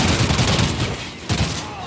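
Gunfire in a competitive Call of Duty match, a dense loud burst of rapid overlapping shots with a brief dip and then another volley, continuous and close.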